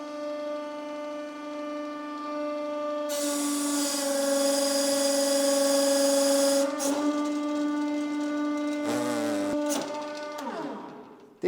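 A hydraulic press squeezes a banana, a loud steady mechanical whine with strong tonal harmonics droning for several seconds, then a pitch wobble and a rising strain near the end before it cuts off.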